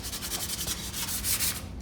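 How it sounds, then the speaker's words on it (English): Sandpaper rubbing over a painted wood floor to distress the finish, with quick back-and-forth abrasive strokes, close and steady, without voices. "Just distressing it. Strategic distressing, that's what I call it."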